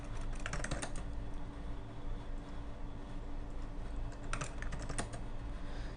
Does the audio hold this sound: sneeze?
no